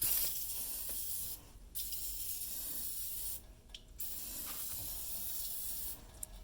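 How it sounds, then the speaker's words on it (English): Bursts of aerosol cleaner spray hiss on and off several times, close by, onto Saab B234/B235 engine parts, with rubbing and scrubbing noises in between and no talking. "Spray it."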